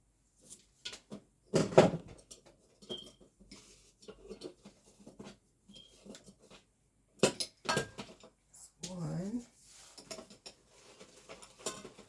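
Pretty plastic drinking glasses clink together in a handful of sharp, bright taps spread across a quiet tabletop scene, with some soft handling and rustle in between and no one talking.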